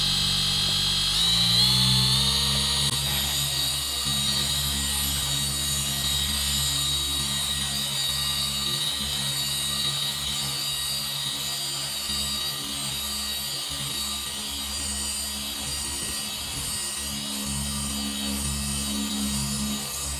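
A car polisher spins at 4,400 RPM while working Jescar Heavy Cut Compound V2, giving a steady, loud mechanical whine with a constant pitch that runs unbroken through the whole stretch, with no voices over it.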